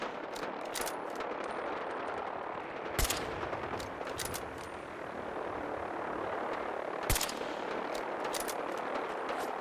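Gunfire in the Fallout 4 game, bursts of rapid shots crackling over a continuous roaring battle din, with two sharp, loud blasts standing out near 3 and 7 seconds.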